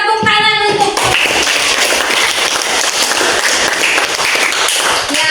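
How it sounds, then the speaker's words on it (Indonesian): Scattered clapping from a classroom of students fills the space with a dense, steady patter of hands, fairly loud and continuous after a brief moment of other sound at the start. "Ya benar, tepuk tangan untuk."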